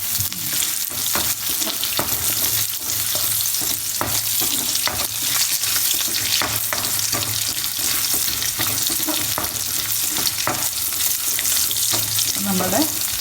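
Onions sizzling and frying in a pan for green tomato curry, a continuous loud hiss broken by the repeated scrape and clatter of a spoon stirring.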